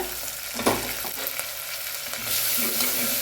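An onion mixture with ginger-garlic paste sautés in a pan with a continuous close-up sizzle, broken by scraping stirs and a brief clank of the spoon, the frying growing slightly brighter toward the end.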